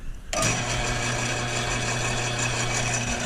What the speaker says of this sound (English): you put your drill in it, and then you clamp down your workpiece, okay, and you turn it on